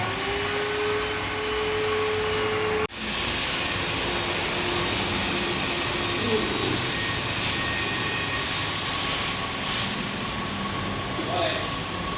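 A vacuum cleaner runs with a steady, loud whine and rush of air while cleaning the floor and carpet inside a Daihatsu Ayla car, with a brief dip partway through and no talking.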